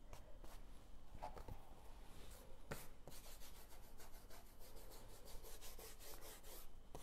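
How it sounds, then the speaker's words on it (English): A hand rubbing over a painted wood surface to distress it, giving steady dry scuffing and brushing strokes with occasional sharper scrapes, close and continuous for about seven seconds with no talking. "And now I rub harder to create something that's not perfect."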